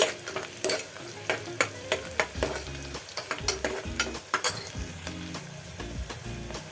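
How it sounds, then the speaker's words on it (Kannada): Onions frying with a little salt in a pan while making ghee rice, a steady sizzle broken by repeated scraping and stirring strokes of a utensil, close and fairly loud with no talk. "ಒಂದು ಸ್ವಲ್ಪ ಉಪ್ಪು ಹಾಕಿದ್ರೆ ಈರುಳ್ಳಿ ಬೇಗ ಫ್ರೈ ಆಗುತ್ತೆ"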